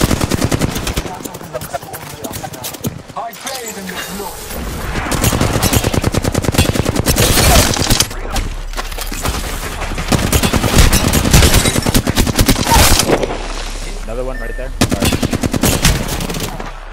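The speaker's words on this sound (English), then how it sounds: "Opening fire on the enemy." Automatic weapon fire in the Apex Legends battle royale game during a fight with an enemy Valkyrie team: dense, continuous rapid bursts with impacts and effects, loud and nearly unbroken, with a player talking over it.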